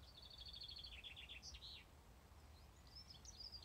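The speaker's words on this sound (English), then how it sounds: "You hear the birds singing?" Birds chirp and sing in bright, quick trilled phrases, a few calls repeating over a low rumble of outdoor background noise on an evening walk.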